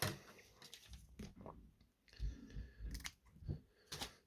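Scissors snip through fly tying material indoors, a handful of crisp close clicks and cuts spaced irregularly with quiet gaps between.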